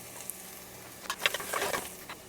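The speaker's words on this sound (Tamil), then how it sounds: "இப்போ நம்ம நறுக்கி வச்ச 2 பச்சை மிளகாய், இதை இப்போ நம்ம போடலாம்." Chopped green chillies drop into hot oil in a pan, setting off a quiet background hiss that bursts into brief, crackling sizzles.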